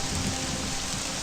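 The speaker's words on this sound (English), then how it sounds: "Now there's rain, too." Steady rain in the video game Morrowind, a dense, even hiss of falling drops that stays loud and constant throughout, with no talking.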